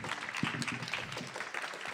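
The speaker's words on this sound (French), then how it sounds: "Je pense qu'on peut les applaudir encore une bonne fois." An audience at a spring poetry event applauds in a steady, soft wash of clapping that carries on for the whole short stretch without pause.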